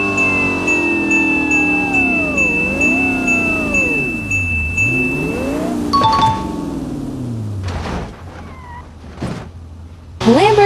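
A Corvette C7 engine in a video game revs with a steadily rising and falling pitch, loud and close, joined by chiming tones and a few thuds near the end.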